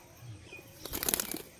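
A released pigeon bursts into a short, rapid flurry of wing flaps close by, then the flapping quickly fades.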